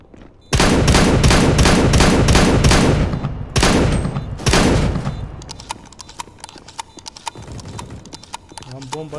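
Rapid automatic gunfire in the video game CS:GO, several loud bursts of rattling shots in quick succession, then a pause and scattered sharper single shots and clicks.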